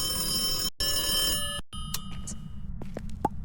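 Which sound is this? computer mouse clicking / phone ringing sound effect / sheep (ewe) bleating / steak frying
phone ringing sound effect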